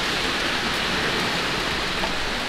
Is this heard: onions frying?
no